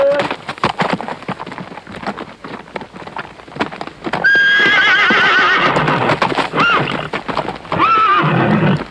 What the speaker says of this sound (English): Anyone could see at first glance the horse was completely wild.